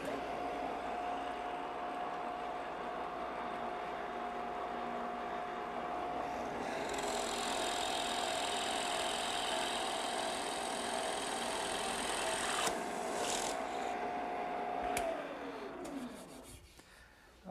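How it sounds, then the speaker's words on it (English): A drill press bores a hole with a 1-inch bit in a woodworking shop, a steady motor hum with a higher whine of the bit cutting wood, running continuously before spinning down at the end. "I just put a 1-inch bit in my drill press"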